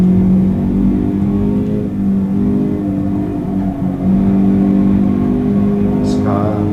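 A Toyota GT86 engine in the Assetto Corsa racing simulator drones steadily at mid revs, loud and continuous, with a faint high chirp near the end.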